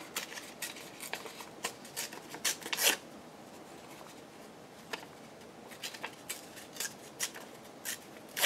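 Paper torn by hand for a craft project gives short, crisp ripping bursts in an irregular rhythm, close and fairly faint, separated by brief quiet gaps.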